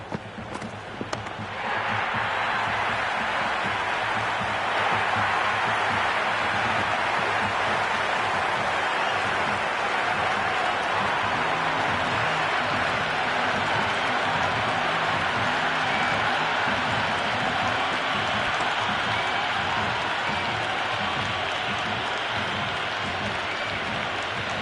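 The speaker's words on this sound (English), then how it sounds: "It's almost palpable, the excitement emanating from this crowd at the moment." Cricket stadium crowd roaring and applauding in a sustained, dense wash of cheering that holds steady and loud throughout, broad and distant-sounding.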